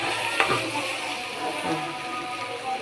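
Chickpeas fry in a pan for iftar with a fairly soft, steady sizzle and crackle, broken by one or two brief stirring scrapes, and no voices.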